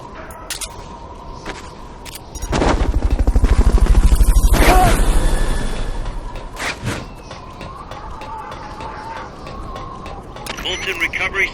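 Helicopter in Metal Gear Solid Peace Walker, a low rotor thrum that swells loudly for a few seconds and then fades away, with game effects and talk around it.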